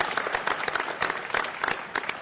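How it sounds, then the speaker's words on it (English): An audience at a White House event applauds, producing a steady patter of many hands clapping at moderate distance with no pause. "Please give them a big round of applause."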